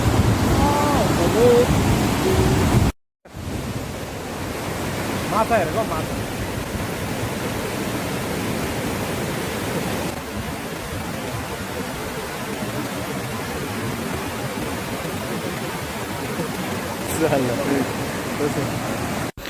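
Steady broadband rush of a flowing river during a roadside stop on a sunset drive, continuous and fairly loud throughout, with a brief dropout near the start and faint scattered sounds over the water noise.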